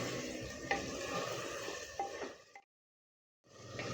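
Bone-in mutton fries in a pan, a close, steady sizzle with a couple of scraping stirs, cutting off abruptly into a brief silence before the sizzle returns.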